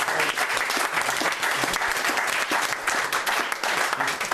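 Loud, dense audience applause at a close-up magic show, a continuous roar of many people clapping from start to finish.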